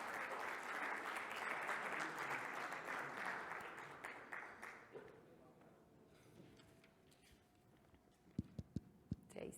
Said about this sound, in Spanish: Recibamos por favor con un aplauso y démosle la bienvenida a la ingeniera Cristina Mariaca